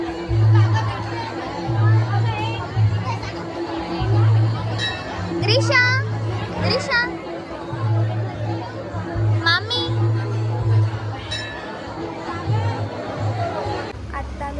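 A crowd of people eating together at a temple fills the air with steady chatter and children's voices, dishes faintly clinking beneath, with a few nearby voices calling out over the hubbub.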